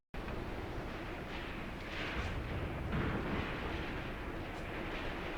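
Heavy gunfire and artillery barrage in a tactical World War II war game at Vinyagolovo, a steady dense rumble of shots and distant blasts with a louder swell partway through, no talking.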